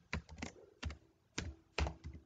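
C++ code is typed on a computer keyboard in four distinct, close, clacky keystrokes spaced roughly half a second apart, each with a short rattling tail.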